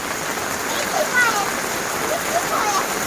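Rain pours down in a dense, even hiss, loud and close, with a few faint chirps or squeaks breaking through and no clear voices.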